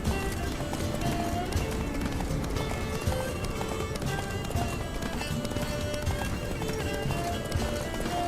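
Horse hooves clip-clopping at a run in The Witcher 3 video game, a steady rhythmic galloping with occasional whinnies under a busy game soundscape and some speech.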